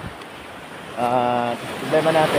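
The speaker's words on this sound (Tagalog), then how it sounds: "medyo malalaki yung alon" Large waves surge and wash against the rocks of a coastal rock formation, a loud steady roar of surf with wind, while someone speaks over it.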